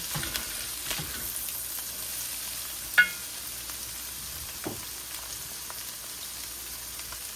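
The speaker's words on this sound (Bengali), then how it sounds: "এখন দিয়ে দিচ্ছি আমি বাঁধাকপি কুচি।" Chopped cabbage stir-fries in a pan for fried rice, giving a faint, steady sizzle with a few soft scraping clicks from stirring and no voices.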